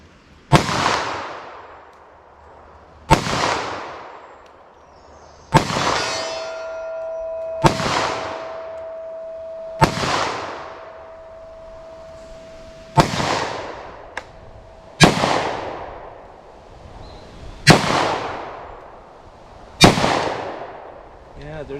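Ten sharp 10mm handgun shots fired at steel targets 75 yards away, spaced roughly two seconds apart, each crack followed by a decaying ring, with one longer metallic ring from a struck plate.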